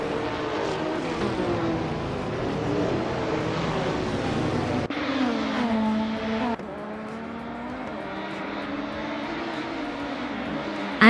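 A 1986 Porsche 961 LM racing in a video game, its engine droning loud and steady, with pitch sweeping up and down through gear changes and a couple of abrupt cuts.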